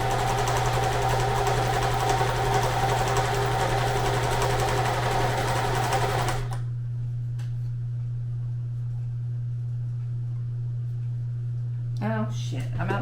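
A sewing machine runs fast and steady, whirring loudly for about six seconds, then stops when the bobbin thread runs out, leaving a low steady hum with a few faint clicks and handling noises.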